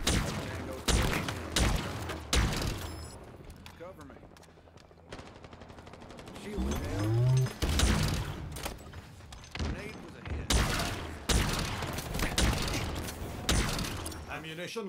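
Rapid bursts of gunfire ring out during a Halo Infinite multiplayer match on Xbox Series X, with repeated loud volleys and mechanical weapon clicks, over in-game speech and a player talking.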